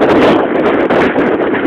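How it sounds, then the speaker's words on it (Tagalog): Strong wind buffets the microphone in a loud, continuous roar with rustling gusts and no voices. "Labayan pa ng malalakas na hangin"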